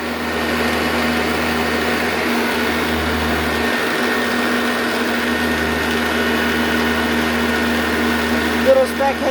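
A Eureka commercial vacuum cleaner runs steadily at close range, a continuous loud whirring drone as it agitates dirt, with a few brief bumps near the end.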